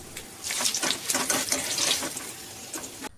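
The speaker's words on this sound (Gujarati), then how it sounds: "આ બટાકાની સળીને ગરમ તેલમાં થોડી થોડી નાખીને ફ્રાય કરીશું." Dried potato sticks dropped in small batches into hot oil over low to medium flame, giving a soft, fizzing sizzle with bursts of crackle, fairly faint and steady with no talk.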